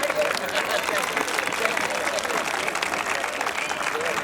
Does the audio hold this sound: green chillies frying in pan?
no